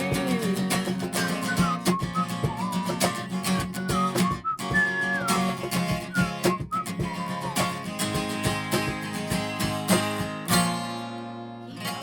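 Whistled melody weaves through a full Christian worship music track, with clear sliding tones over steady beats and instruments.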